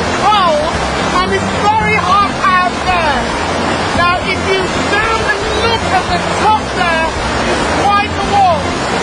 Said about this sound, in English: This is Dunn's River Falls here in Jamaica, one of the major attractions on the island.